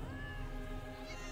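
A house cat meows in the video game Elder Scrolls Online, a single drawn-out cry at low volume over faint game background sound.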